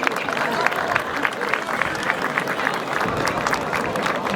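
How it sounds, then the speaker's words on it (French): A crowd gathered at the Churrascaria, a festive venue in the Camargue, applauds heartily, a loud, dense and steady clapping that continues throughout with a few voices mixed in. "Je pense qu'on peut tous les applaudir déjà."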